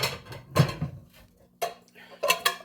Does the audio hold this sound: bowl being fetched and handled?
yes